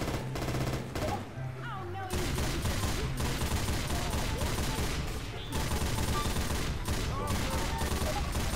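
Turret gunfire in the video game Left 4 Dead, a loud, continuous rapid-fire machine-gun rattle that runs almost the whole time with only brief pauses, mixed with game noise and a voice talking over it.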